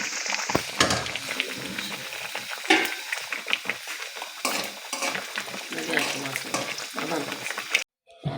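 Tadka of spices sizzles and crackles in hot oil for Lahori hareesa, with steady frying hiss, stirring scrapes against the pan and a louder burst of sizzling near the middle before a brief drop-out.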